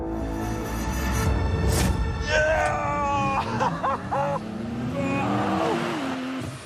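Porsche 911 Turbo S drag racing on a circuit, engines revving and rising in pitch as cars accelerate, loud and close, with excited voices shouting over the roar.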